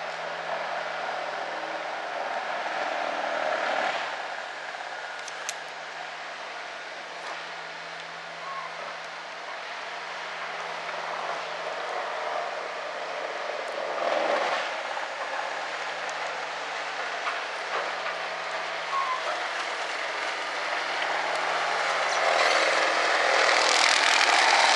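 An old Cat 225 excavator works steadily, feeding a grinder, with a second machine below; a continuous loud mechanical drone with rumbling and scraping surges throughout, no talk.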